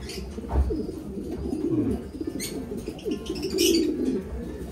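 Several pigeons coo in low, repeated throaty phrases over a soft steady background, with a few faint higher chirps and a brief flutter, nearby and moderately loud, no talking.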